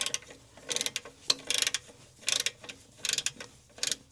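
Hand ratchet clicking in short repeated bursts while tightening clutch pressure plate bolts on a truck, sharp close pawl clicks separated by brief pauses, with no voices.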